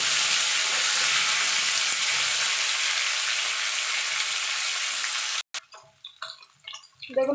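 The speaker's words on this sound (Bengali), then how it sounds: "আলু মূলো একসঙ্গে দিয়ে দেবো।" Radish and potato pieces frying together in a pan give a loud, continuous close sizzle that cuts off abruptly near the end, followed by a few scattered knocks and handling sounds.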